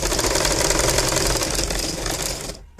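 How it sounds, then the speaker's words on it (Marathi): A sewing machine stitches baby cap fabric in a rapid, even mechanical whirr close by, running for a couple of seconds before stopping abruptly. "आता अर्ध्या इंचावरती परत स्टिच मारून घ्या"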